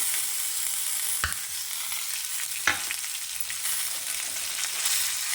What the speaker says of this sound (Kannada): ಒಂಚೂರು ಫ್ರೈ ಆದ ಕೂಡಲೇ ಬೆಳ್ಳುಳ್ಳಿ ಎಲ್ಲ ರೋಸ್ಟ್ ಆಯಿತು ಈಗ ಟೊಮೆಟೊ ಹಾಕೊಂಡ್ಬಿಡು